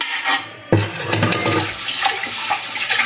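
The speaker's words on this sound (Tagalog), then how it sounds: "Nagkuskus pa kog kaldero." Running water streams into a sink while a cooking pot is scrubbed, a steady close wash with a sudden louder gush partway through and faint rubbing under the flow.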